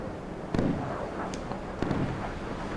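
Explosions as a big ship is hit and destroyed in the naval combat game Sea Power: two sharp booms about a second apart, each with a rumbling tail, over a steady background.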